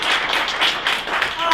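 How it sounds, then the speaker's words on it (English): Studio audience on a Toronto talk show clapping together, a dense brisk patter of hands filling the short moment. "Give yourselves a big clap."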